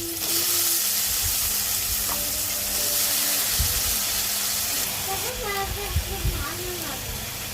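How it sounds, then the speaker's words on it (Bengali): Sliced onions, flat beans, papaya and potato fry in hot oil in a pan, giving a steady, close sizzle with occasional stirring clatter while someone talks over it. "পেঁয়াজটা ভাজা হয়ে গেছে এখন আমি সবজিগুলো দিব"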